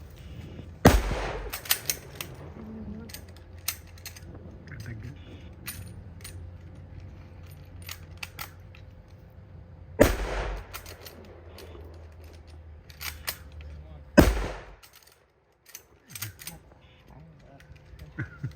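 A 7.7 mm machine gun fires blanks at a Memorial Day demonstration at a museum in Austin, Texas, giving three separate sharp, loud reports several seconds apart rather than a sustained burst, with people talking in between.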